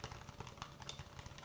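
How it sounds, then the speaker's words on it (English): Fingers tap and scratch on a cardboard box in a rapid, close, crisp rhythm of light knocks, quiet and intimate, with no speech. "It's cardboard. It's a cardboard box."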